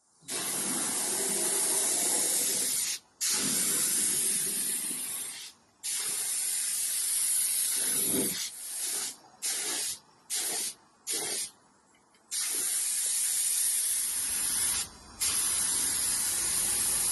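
Spray gun laying paint onto a Sunbeam Alpine car during a home respray, a loud close steady hiss in long bursts broken by several short stops and quick on-off triggers.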